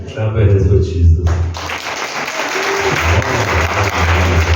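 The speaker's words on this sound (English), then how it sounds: "Clap your hands for Jesus." A church congregation at a revival healing and deliverance service claps hands together, a dense steady burst of clapping following a loud speaking voice, with talk continuing over the claps.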